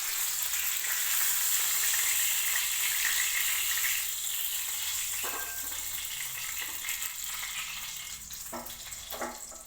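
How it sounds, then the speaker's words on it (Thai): Pork fries in a pan with a loud, constant sizzle that eases slightly toward the end, punctuated by a few light clicks. "ทอดหมู"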